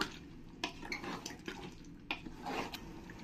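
Yogurt is stirred into chicken biryani in a pot, with soft wet squelches and a few spoon knocks and scrapes against the metal, fairly quiet and close, with no talking.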